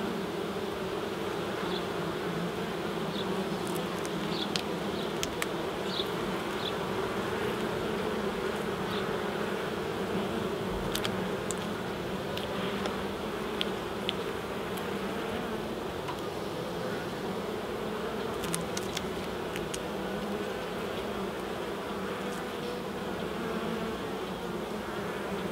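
Honeybees buzz at an open hive in a UK apiary, a dense, steady drone that holds for the whole stretch, close and even, with an occasional louder bee passing near.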